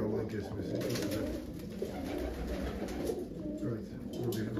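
Pigeons cooing inside a coop, soft repeated low coos overlapping throughout, with a voice speaking faintly in the background.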